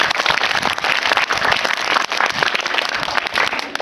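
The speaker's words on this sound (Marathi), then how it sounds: "टाळ्या वाजवण्यासाठी." Schoolchildren at a village primary school clap together in a dense, steady burst of applause lasting a few seconds, loud and close, with no talk over it.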